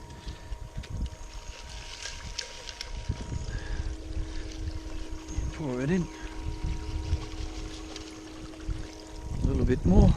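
A bucket of water is poured into a gold sluice outdoors, giving a splashing, gurgling rush against steady flowing water and wind, while a person talks nearby.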